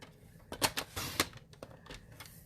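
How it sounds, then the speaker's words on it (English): A paper trimmer slices a strip of cardstock, a few close clicks followed by a rasping, sliding cut about a second long, then softer taps. "So let's cut 4 inches here"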